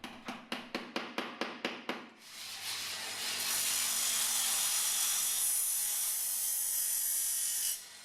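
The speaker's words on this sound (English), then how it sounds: "Here I'm flattening the imperfections made from the drill bit, and then grinding the high spots off" A quick series of rhythmic rubbing strokes gives way to a sustained, harsh high-pitched grinding of high spots off BMW E30 Touring engine bay bodywork, running steadily for several seconds before stopping.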